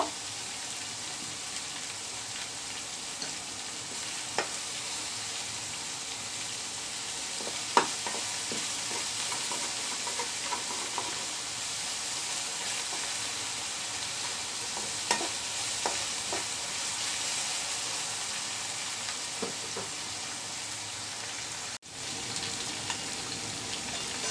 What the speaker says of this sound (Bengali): ভালোভাবে কষিয়ে নিব তাড়াতাড়ি লবণ দিচ্ছি একটু তাড়াতাড়ি নরম হয়ে যাওয়ার জন্য